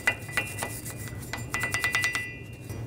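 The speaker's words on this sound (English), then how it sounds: "Take a wire brush and clean up any of this rust all around the hub" A wire brush scrubs rust off the front wheel hub of a 1999-2007 Chevy Silverado 2500HD, making quick raspy strokes that come in an uneven series and then a faster run, close up with no talking.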